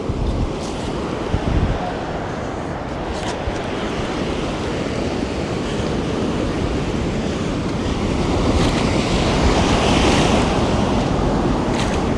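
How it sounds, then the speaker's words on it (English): Ocean waves crash and wash up a beach during metal detecting, a loud continuous roar with heavy wind buffeting the microphone that swells toward the end. "those waves are kicking today"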